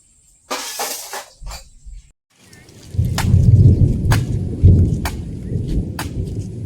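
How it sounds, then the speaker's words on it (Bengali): Low thunder rumbles through, with a brief hiss of rain and distant noise early on, then a sustained deep roll with sharp crackling bursts. "বৃষ্টি হচ্ছে না কিন্তু আকাশ ডেকে যাচ্ছে"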